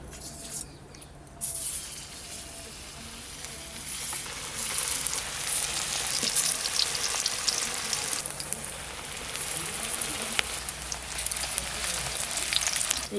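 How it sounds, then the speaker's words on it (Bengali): Egg-stuffed jackfruit chops fry in hot oil in a home kitchen, giving a steady bubbling sizzle that swells louder partway through, with occasional pops and stirring sounds and no talk. "এবার আমি এইগুলোও খুব ভালো করে ভেজে নেব"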